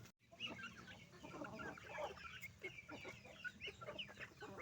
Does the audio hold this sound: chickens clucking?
yes